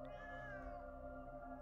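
A cat meows in the dark fantasy video game Moonscars, a single drawn-out tonal call rising briefly then settling, heard close and clear over a steady low game ambience with no talking.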